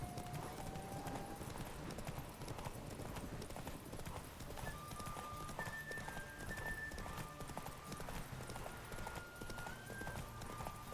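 Roach, Geralt's horse in The Witcher 3, gallops with a fast, steady clip-clop of hooves and occasional short whinnies, faint in the mix under game music, with a voice talking over it.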